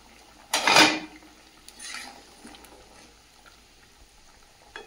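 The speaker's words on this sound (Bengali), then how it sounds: "ঢাকনাটা খুলে দেখে নেব।" A metal lid is lifted off a pot of cooking papaya and potato curry, giving one close, loud clattering clank followed by a fainter scrape and light rattles in a quiet kitchen.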